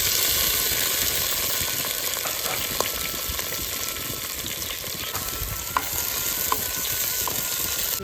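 Tomatoes fry in a pan with a steady, close sizzle and crackle that runs the whole time, with a few sharp pops and stirring clicks and no voices.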